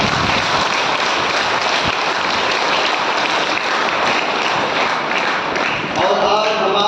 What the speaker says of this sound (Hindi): चले जोरदार से और एक बार ताली।